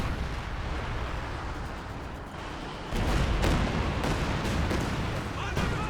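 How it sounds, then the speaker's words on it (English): Rocket artillery fire from Katyusha launchers in a World War II strategy video game, a dense rumbling barrage of rapid bursts that grows louder and sharper about halfway through, with repeated impacts continuing to the end. "That's an ambitious Katusha. It's actually very well placed."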